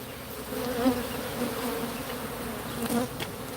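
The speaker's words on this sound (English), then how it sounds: "Almost every abandoned home that you go by out here, there's killer bee hives in it." Killer bees swarm around a hive inside an abandoned home, making a close, continuous droning buzz that rises and falls slightly as individual insects pass nearby.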